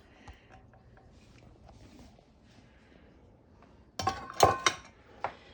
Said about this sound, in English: So we're just basically gonna mix this all together